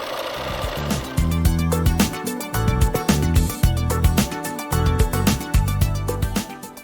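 A sewing machine stitches quilt seams in loud, rapid mechanical bursts, several runs of stitching separated by short pauses, close and alone.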